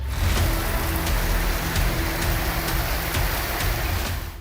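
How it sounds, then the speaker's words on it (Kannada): Heavy rain pours down in Gokarna and Madanageri, Kumta taluk, Karnataka, during flooding, a loud, steady broadband roar with no voices, a low hum running underneath throughout. "ಇನ್ನು ಕುಮಟಾ ತಾಲೂಕಿನ ಗೋಕರ್ಣ, ಮಾದನಗೇರಿಯಲ್ಲೂ ಭಾರೀ ಮಳೆ ಸುರಿತಿದೆ"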